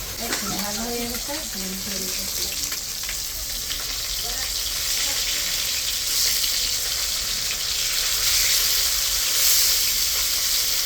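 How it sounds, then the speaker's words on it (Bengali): Pomfret fish fry in hot oil with a constant close sizzle and hiss that builds slightly over time, and a voice talks briefly at the start. "এখন পোয়া মাছগুলি ভেজে নিই"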